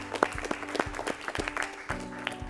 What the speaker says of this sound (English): So let's clap for them as well.